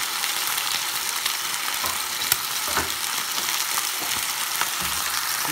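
Chicken pieces fry in a pan with a steady, fairly close hiss and sizzle, broken by a few light clicks and taps.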